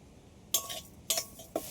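A metal wok holding a coconut filling being set on the stove: three sharp metallic clinks spaced about half a second apart over a faint background.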